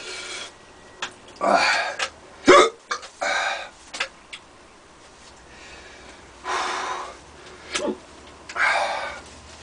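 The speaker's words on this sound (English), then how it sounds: "a lot of that comes through because I got the hiccups" Repeated hiccups from someone with a burning mouth during a hot chilli pepper eating challenge, about eight sharp, irregular bursts, some with gasping, rasping breaths, heard up close with no talk.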